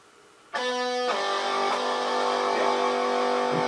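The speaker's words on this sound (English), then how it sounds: "you'll notice that with the distortion on, that interval doesn't sound as pure" An electric guitar with distortion sounds a major third interval, entering abruptly and then ringing as a sustained, buzzing, harmonically rich chord that holds steady and loud to the end.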